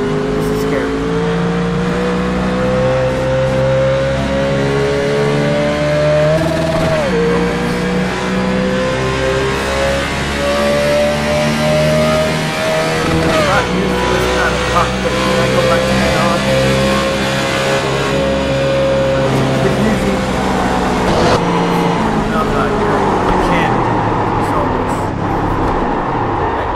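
A race car engine in the iRacing sim, heard as a continuous loud drone with repeated rising and falling revs and gear changes throughout, over tyre and road noise.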